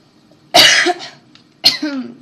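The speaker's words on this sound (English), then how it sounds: "Cough, cough." Two loud, close coughs, one after another with a short pause between them, each a harsh burst trailing off.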